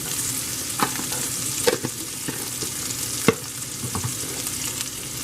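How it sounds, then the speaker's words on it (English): Onions sizzle loudly in a skillet for a diner-style patty melt, a close, constant crackle punctuated by several clanks and scrapes of a spatula. "Add a generous amount of onions, okay? Add those onions in there,"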